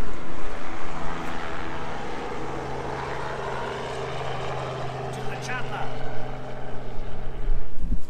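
A droning rotor engine hums steadily overhead with a low throbbing beat, moderately loud, growing slightly stronger toward the end.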